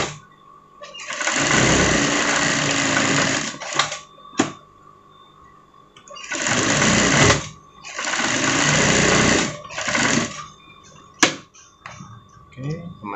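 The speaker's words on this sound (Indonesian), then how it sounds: "Kita jahit yang sebelahnya lagi." A sewing machine runs in several long stitching bursts with short pauses between them, attaching a Doraemon pocket to a sweater jacket; the motor whirs loud and close.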